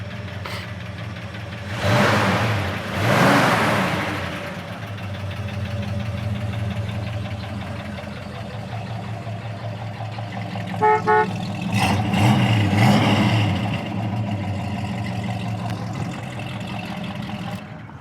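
A 1970 Ford Mustang Fastback idles with a low, lumpy rumble, revving sharply twice early on and surging again later, a short horn toot cutting in just before the last revs.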